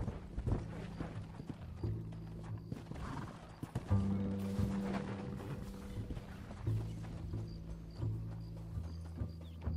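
Horses ridden at a steady pace in the Red Dead Redemption video game, with a rhythmic clip-clop of hooves and occasional whinnies under faint background voices and mechanical rattling.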